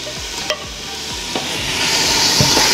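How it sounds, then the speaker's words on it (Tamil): Tomatoes sautéing in a pan for chicken biryani, a steady broadband sizzle that grows louder toward the end, broken by several sharp scraping stirs of a spatula, close up with no voices. "தக்காளி நல்லா வதங்கணும்"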